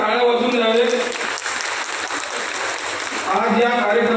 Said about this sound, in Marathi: 2 मिनिटं आपल्या सर्वांनी जोरदार टाळ्या वाजवून द्यावे.